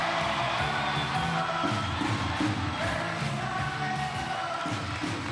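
The studio crowd at the 1997 Gladiators UK TV show sings together in a large indoor arena, a loud, continuous chorus of many voices with a steady, chant-like rhythm.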